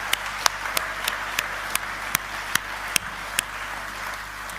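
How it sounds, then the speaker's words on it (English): Sparse clapping at an awards night for nominees, a handful of distinct close claps spaced out over a quiet hum, no talking. "let's give them a huge round of applause, all our nominees tonight"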